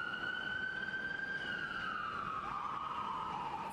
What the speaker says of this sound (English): Sirens heard blaring throughout the city of New Haven